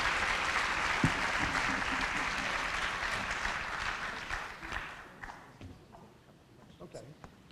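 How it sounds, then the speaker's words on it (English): Audience applause for Dr. Templin at the MACC 5th Annual Summit on Completion, a dense steady clapping that fades out over the last few seconds, leaving scattered claps. "Let's give him another round of applause"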